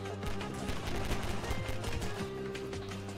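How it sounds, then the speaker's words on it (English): Rapid gunfire from many weapons in Garry's Mod Flood, a dense, continuous barrage of overlapping shots close by, with steady game music or hum underneath and no talking. "Shut up, stop shooting."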